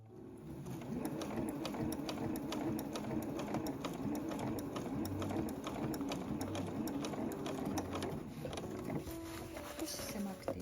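A home sewing machine stitches a 5 mm seam allowance on canvas for a zippered tote bag, with a steady, close, continuous mechanical whir and rapid needle clatter that runs almost the whole time.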